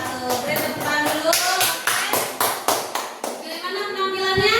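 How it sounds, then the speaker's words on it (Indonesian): Classroom applause during a teaching practice lesson: a group claps in uneven bursts with scattered sharp taps, mixed with children's voices and chatter throughout. "Beri tepuk tangan dulu."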